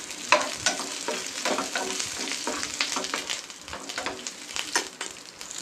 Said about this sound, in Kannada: ಬೆಳ್ಳುಳ್ಳಿ ಹಾಗೆ ಹುರ್ಕೊತಾ ಇದ್ದೀನಿ